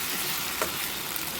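Masala sizzling and frying in a pan for a prawn curry, a steady broadband hiss with a faint stir near the middle, close and continuous with no talk.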